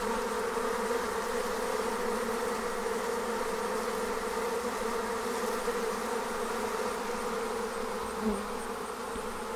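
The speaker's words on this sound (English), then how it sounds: "so you can hear the buzzing of the bees as they come and go" Honey bees swarming out of an observation hive make a steady, dense buzz that holds at an even, fairly loud level throughout, close by and with no talking.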